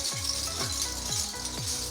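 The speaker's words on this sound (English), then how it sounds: "Just a bunch of old bottle caps all strung on an old bamboo flute." Old bottle caps strung on an old bamboo flute, shaken in four quick metallic rattling bursts at an even rhythm, close and clear with no talk.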